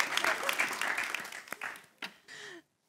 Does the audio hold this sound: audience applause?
yes